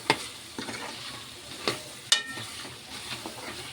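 Food being mixed in a pan, a few scraping stirs and clinks over a soft continuous sizzle, close and moderately loud, with no talking.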